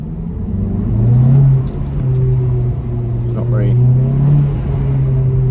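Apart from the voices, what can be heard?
Seat Cupra 290 engine revving in first gear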